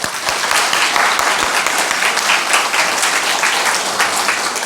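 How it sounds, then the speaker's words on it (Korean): A crowd at a book concert gives loud, steady applause for election commission staff, a dense wash of clapping with a few sharper nearby claps, holding evenly throughout. "그분들한테 박수 한번 쳐줍시다"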